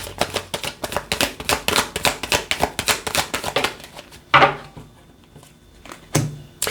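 A tarot deck is shuffled by hand in a rapid, crackling riffle of cards for about four seconds, then a few louder taps and thumps as the cards are squared and set down.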